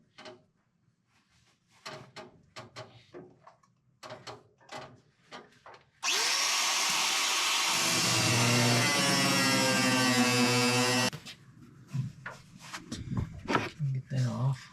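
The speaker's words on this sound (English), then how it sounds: "I'm gonna grind this bolt off." Angle grinder cutting off a bolt on a 1936 Ford firewall, a loud steady whine that runs about five seconds between stretches of talk and workshop clatter.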